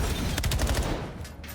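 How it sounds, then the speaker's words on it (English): Gunfire in a Call of Duty match during a CDL esports game, a dense rattle of rapid automatic shots heard loud and continuous throughout. "So far, it's a lot of gunfire."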